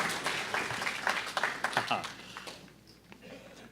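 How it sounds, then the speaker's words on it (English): Brief audience applause for a young contestant climbing stairs onto a stage at a junior fiddle competition, a short burst of scattered clapping that fades out over a few seconds while someone talks over it. "let's give him a round of applause as he steps on those stairs"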